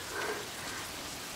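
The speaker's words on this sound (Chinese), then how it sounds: "你看今儿这大暴雨，下得太突然了" Heavy rain pours down in a steady, dense hiss, a constant close wash of falling water with no talk over it.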